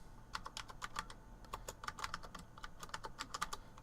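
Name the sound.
typing on an Apple IIGS ADB keyboard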